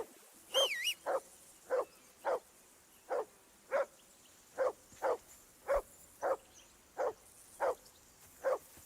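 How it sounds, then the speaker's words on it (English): A dog in the video game Kingdom Come Deliverance 2 barks in a steady rhythm, about a dozen evenly spaced single barks at moderate distance, with a brief whistle-like tone near the start. "assume you can hear that damn dog of yours barking."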